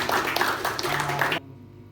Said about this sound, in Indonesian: terima kasih dan tepuk tangannya buat kita semua